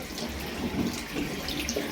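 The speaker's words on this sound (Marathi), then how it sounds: "आता पाणी आलं आहे" Tap water runs steadily from a household faucet into a sink, a constant close rushing splash with no pauses, and no voices.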